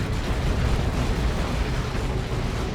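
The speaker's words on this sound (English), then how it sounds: "Where's your grenade? There it is. It's a good grenade." A grenade explosion in the Dawn of War 2 strategy game, heard as a loud, dense, sustained rumbling blast that fills the whole short stretch without any voices.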